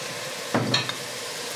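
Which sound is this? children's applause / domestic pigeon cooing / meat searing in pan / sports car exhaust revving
meat searing in pan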